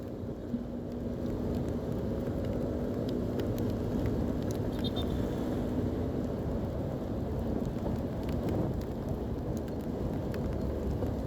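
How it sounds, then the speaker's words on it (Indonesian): Steady rain hisses on the road during a motorcycle ride, a dense, even wash of noise under a low engine and traffic rumble, with faint wind buffeting and no voices. "Ini kondisi hujan ya."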